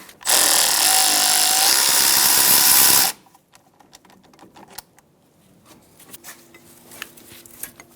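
A power tool, likely an impact wrench, loosens a brake caliper bolt on a 2014-2018 Subaru Forester, giving a loud steady whir for about three seconds before cutting off, followed by quiet clicks and handling noise.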